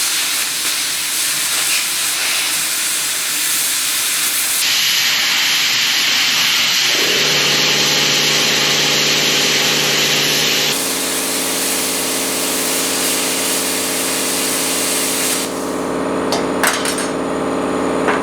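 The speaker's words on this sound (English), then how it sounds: "I cut these screws off the top." A tool cuts screws off the top of a metal piece for Halloween metal art jack-o-lanterns, a loud, continuous harsh hiss and roar that shifts pitch as the cut progresses, with no talking.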